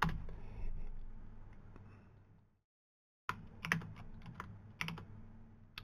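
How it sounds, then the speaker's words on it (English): Quiet close-up typing on a computer keyboard, a run of clicking keystrokes that fades, falls silent briefly, then resumes in irregular taps. "I'm just going to hit Windows and type in Edge"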